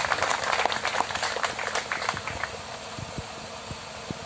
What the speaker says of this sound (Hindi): इनके लिए भी जोरदार तालियों से स्वागत और सम्मान।